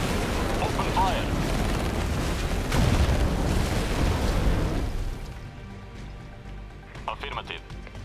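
Gunfire and explosions in the real-time strategy game Tempest Rising, a heavy rumbling barrage of blasts and booms that thins out midway into scattered bursts, with voices speaking over the battle.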